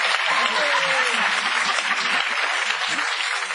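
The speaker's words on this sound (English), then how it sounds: "Give myself a cheer" Studio audience applause on a daytime TV talk show, dense continuous clapping and cheering at steady loudness, with a voice speaking over it.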